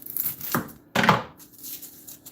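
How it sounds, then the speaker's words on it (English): A knife cuts through an onion on a board in two distinct chops, a lighter one followed by a louder, crunchier slice, then quiet handling noise. "Let's cut the onion."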